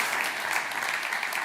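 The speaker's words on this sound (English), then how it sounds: "We can clap." Congregation at a church service clapping together, a steady, even wash of many hands applauding in a room, continuous and unaccompanied by talk.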